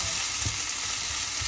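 Pork adobo with string beans sizzles and fries steadily in a pan, with a few soft stirring knocks, close and continuous, no voices.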